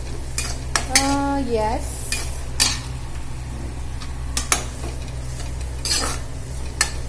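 Vegetables cooking in a little oil in a pan for a simple pasta, a soft sizzle under clattering stirs and utensil scrapes against the pan, with one brief spoken word.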